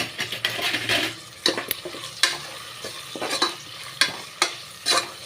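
Onions stir-fried with coriander and curry leaves for coconut rice, a soft sizzle broken by repeated sharp clinks and scrapes of a spoon against the pan, close and without speech.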